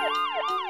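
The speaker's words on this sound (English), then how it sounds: "Police car." A police siren wailing in rapid rising-and-falling sweeps, loud and close, with no voices.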